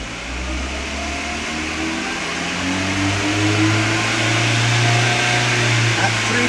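A 2005 VW Jetta with a 2.0 engine and a bank 1 lean fault revs up toward 3000 RPM, its steady drone climbing gradually in pitch and loudness, heard close and continuous with no talk over it.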